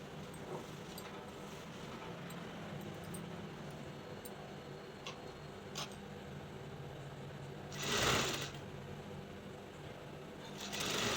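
An electric sewing machine stitches a joining seam on a lehenga, running as a steady close mechanical whir throughout, with a brief louder burst near the end.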